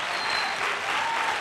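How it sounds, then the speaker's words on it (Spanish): Audience applause welcoming a flamenco school onto a live afternoon show, a steady dense clapping from a large crowd that fills the moment without pause. "Un aplauso, mira toda la gente que hay"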